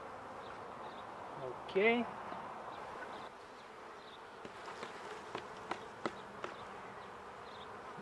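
Honeybees hum softly and continuously at an opened hive in early spring, faint and close, with a brief spoken word and light clicks and knocks from frame handling.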